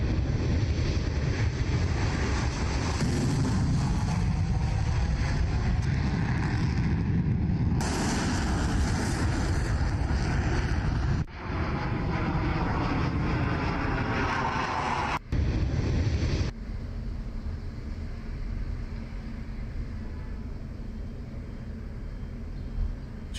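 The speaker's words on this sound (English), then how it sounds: "Footage of Israeli Air Force F-15s taking off to strike Iran." Israeli Air Force F-15 fighter jets take off with a loud, continuous roaring engine rush and wind-like blast, cutting abruptly between shots and easing slightly toward the end.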